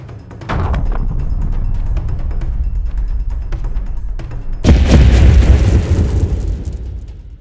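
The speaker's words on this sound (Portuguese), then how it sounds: "Eles desdobraram uma aeronave Su-34, equipada com bombas planadoras pesadas FAB-250, e começaram a bombardear o posto de controle na sua própria terra" FAB-250 glide bombs dropped from a Su-34 exploding on a checkpoint: a sudden heavy blast followed by a sustained rumbling roar, then a second louder, closer boom with lingering low rumble.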